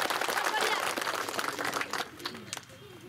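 An audience claps at an election rally in Jalalpur, Ashoknagar, in a dense patter of many hands. The applause dies away over a few seconds as a voice carries on talking.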